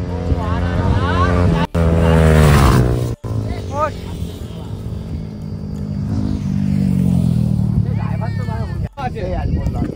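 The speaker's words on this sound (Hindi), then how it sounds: "तीनों बाइक का ठीक है ड्रैग रेस हो रहा है" A KTM Duke 200, Yamaha R15 and MT15 in a motorcycle drag race, engines revving hard and roaring loud and close with rising and falling pitch through gear changes, under excited talking.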